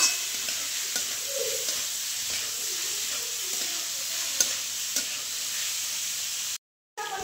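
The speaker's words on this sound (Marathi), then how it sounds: "आता कांदा चांगला भाजून द्यायचा आहे." Onion fries in a pan with a steady bright hiss and sizzle and occasional spoon scrapes, close and continuous, briefly dropping out near the end.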